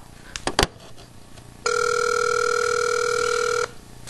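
A telephone ringback tone heard while calling a contact, one sustained electronic ring lasting about two seconds, loud and steady, preceded by a few brief clicks and taps.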